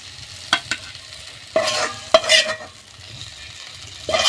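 Spice filling with chopped coriander leaves stirred in a pan for a stuffed green chilli fritter recipe, with a few sharp spatula scrapes and clinks over a soft sizzle, close and alone.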